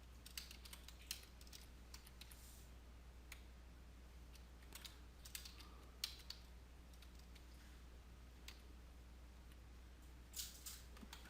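A computer keyboard is typed on quietly to enter a password, a string of light irregular key clicks over a steady low hum, with no talking.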